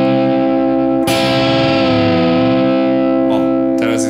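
Distorted electric guitar holding a note in a solo that bends upward in pitch, sustained and loud, with a fresh pick attack partway through and a few later accents.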